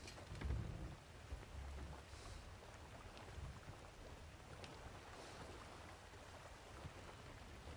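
Steady storm rain hisses across the open sea in Sea of Thieves, with a low rumble of thunder near the start and wind-driven water noise throughout, no voices over it.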